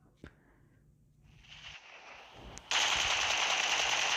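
PUBG Mobile gunfire: a single sharp shot, a short lull with rising noise, then a loud sustained burst of rapid automatic fire.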